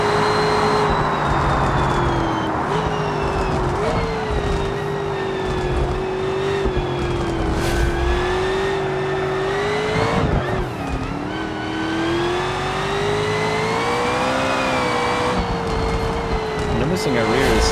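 A car engine held at full throttle in the BeamNG driving game, a loud sustained rasping drone that wavers and dips briefly mid-run before pulling on, with tire squeal and a voice talking over it.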